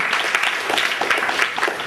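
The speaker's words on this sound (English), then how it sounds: "I like that applause" An evening audience at a speaking event gives a dense burst of steady applause, many hands clapping at once, fairly loud and close, with no talking over it.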